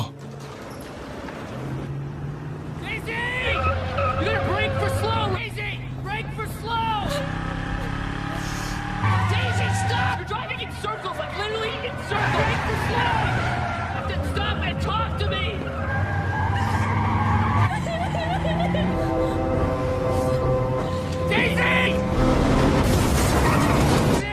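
A car in a film scene is driven off recklessly, with tires squealing and skidding under a roaring engine, loud and continuous throughout, accompanied by dramatic music and occasional booms.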